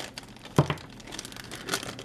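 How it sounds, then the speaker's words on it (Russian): A toy figure is pulled out of a small cellophane bag, giving a brief crinkling rustle with one sharper crackle in the middle and another near the end, close and fairly quiet. "Сейчас мы его достанем из пакетика."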